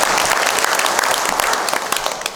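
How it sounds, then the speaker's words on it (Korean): Applause from a lecture audience, steady and dense for a couple of seconds, loud and close with no talking over it. "박수! 박수! 박수!"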